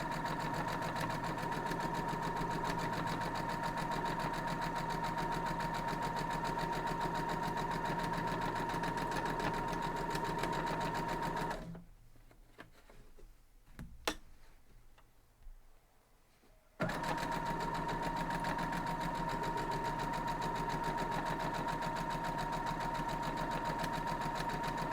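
A sewing machine stitches a quilt block seam in a fast, steady mechanical whir, pausing briefly midway before resuming at full speed, close and loud with no voices.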